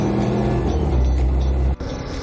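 A motorbike on a road in New Zealand's South Island gives a loud, steady engine drone close to the rider that cuts off abruptly and then settles back to a lower level.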